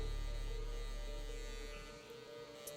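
Electric hair clipper buzzing steadily, close and fairly quiet, while working on an Asian man's hair for a taper fade, fading slightly toward the end with no talk.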